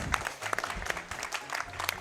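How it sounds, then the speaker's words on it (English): An audience at a speedrun event for The Legend of Zelda: The Wind Waker HD breaks into a burst of clapping, a dense patter of many hands that sounds moderately distant. "You can clap now."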